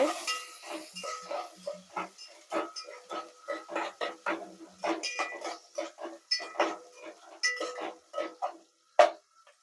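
Thinly sliced small onions stirred in a pan, with repeated scraping and clinking of a spoon against metal and a light sizzle underneath, a steady run of short strokes with no voice.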